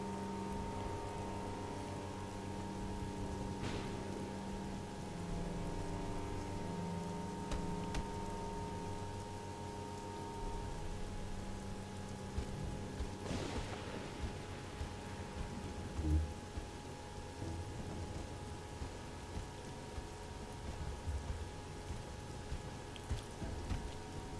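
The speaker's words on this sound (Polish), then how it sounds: "Pada deszcz." Rain falling in the video game Of Orcs and Men, a soft steady patter with occasional faint drops and low ambient hum throughout, no voices.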